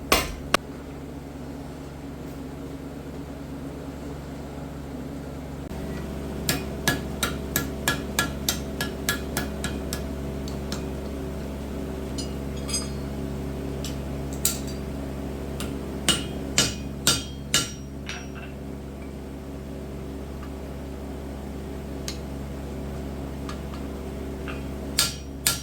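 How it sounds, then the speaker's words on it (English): Hammer blows on a hot forged rivet joining a pair of blacksmith tongs ring out in bursts of sharp, metallic strikes, first a fast steady run, then scattered clusters, over a low constant forge or blower hum. "I'm making a rivet here to rivet the tongs together."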